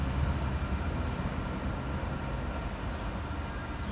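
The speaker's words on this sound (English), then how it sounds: "Here comes the train." A train rumbles through a level crossing on Woodward Road, a steady, loud low roar with rail clatter heard from inside a nearby car, continuous throughout without speech.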